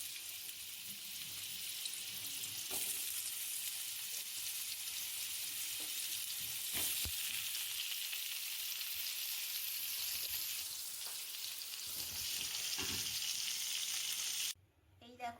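Vegetables and eggplant fry in a pan with chili and cumin in oil, giving a steady, broad sizzle that runs continuously at close range for most of the clip before cutting off near the end.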